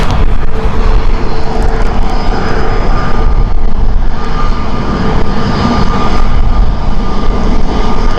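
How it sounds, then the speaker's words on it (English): A Pegasus Airbus A321neo rolls for takeoff at Stansted Airport, a loud, steady jet engine roar that holds throughout, close by and uninterrupted, with no talk. "Here comes the A321neo of Pegasus. It's rolling."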